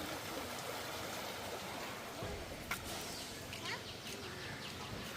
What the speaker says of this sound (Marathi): पाणी वाहता बघा ना पाणी वाहता